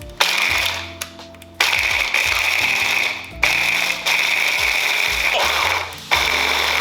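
Food processor pulsing cookies into crumbs for banana pudding, a loud close motor whir starting and stopping in repeated bursts of about a second each, with brief gaps between pulses, no speech.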